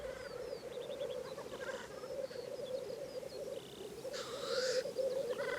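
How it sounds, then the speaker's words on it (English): Black grouse lekking on a Welsh moor at sunrise, a steady bubbling rookooing chorus with scattered higher calls and a brief burst of hissing sneezes, carried outdoors at moderate distance. "The black grouse lek."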